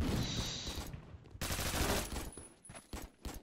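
Rapid gunfire from a shooter game in Roblox Phantom Forces, a dense burst of overlapping shots that cuts out briefly and resumes in scattered pops, heard fairly quietly.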